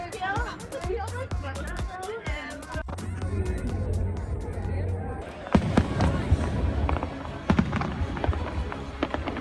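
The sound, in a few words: New Year fireworks over Hoan Kiem Lake, Hanoi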